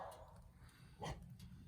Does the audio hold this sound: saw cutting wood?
no